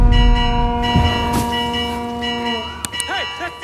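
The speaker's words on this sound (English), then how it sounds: "The bell!" An alarm bell rings in Assassin's Creed Mirage, sustained metallic tones ringing out over game ambience, then fading as sharp impact sounds and swooping tones cut in near the end.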